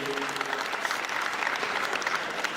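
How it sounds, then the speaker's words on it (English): Sustained crowd applause at a comedy event honoring juju music stars, a thick, even wash of many hands clapping at a steady level, with faint voices briefly audible early on. "please give them a round of applause"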